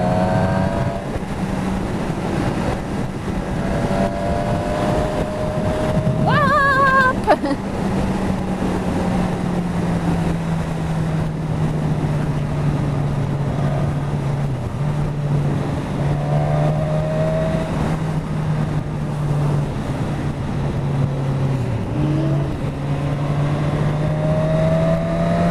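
A Suzuki Katana motorcycle on a ride holds a steady engine drone with one quick rev-up partway through, then carries on with smooth engine note shifts as it accelerates, heard from the rider's position with wind noise.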